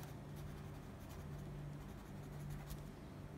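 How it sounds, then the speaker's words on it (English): Pen writing a note on paper, a soft continuous scratching with light strokes over a few seconds, close and quiet, heard alone with no talk. "So let me write that down."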